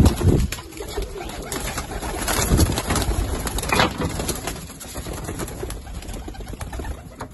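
Young pigeons coo and rustle close by, soft throaty calls over a hissy background with a few bumps, no speech.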